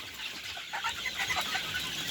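Fifty-day-old broiler chickens on a poultry farm raised on fermented maize feed keep up continuous overlapping clucks and chirps, a busy flock sound without talk.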